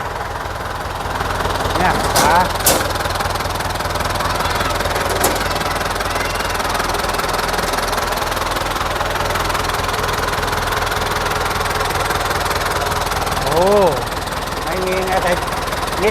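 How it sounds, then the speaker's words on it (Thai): A Ford farm tractor engine idles close by with a steady low chugging rumble, while someone talks over it throughout. "เครื่องยังแน่นอยู่ครับผม ไม่มีไอเลยนะ"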